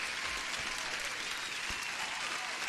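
A burst of steady clapping plays during a live futures-trading stream to welcome a new viewer. It is a dense, even applause sound at moderate loudness, likely a sound effect, with no speech over it.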